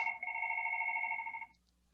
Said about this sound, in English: You can ignore my phone ringing.